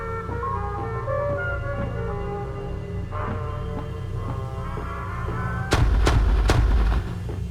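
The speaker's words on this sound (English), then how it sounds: "Man, this gun sounds so good." In the video game The Stanley Parable, a gun fires a few heavy, booming shots close together near the end, following a stretch of steady tonal game background hum.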